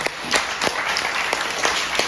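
A congregation at a revival meeting during a Sunday worship service applauds continuously, dense steady clapping filling the hall with scattered sharper claps standing out, no talk over it.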